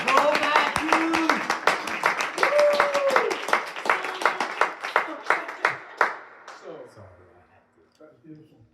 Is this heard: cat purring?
no